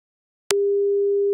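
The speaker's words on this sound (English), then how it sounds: "I'm going to use a sine waveform." A plain synthesized sine-wave tone switches on after a short click and holds one steady, clean pitch at constant loudness until the end, alone with nothing else.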